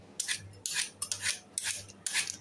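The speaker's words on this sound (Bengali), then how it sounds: "প্লেটে এখন কুচি কুচি কুচি কুচি করছি।" Food is finely chopped on a plate, with four quick, scraping knife strokes in an even rhythm, each a sharp bright rasp against the plate, quiet and close with no talking.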